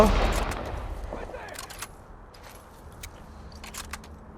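Gunfire in the video game The Last of Us Part 1, a few sharp shots ringing out near the start and again late in the moment, with a voice talking alongside and scattered game clatter between them.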